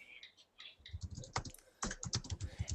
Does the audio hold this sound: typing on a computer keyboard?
yes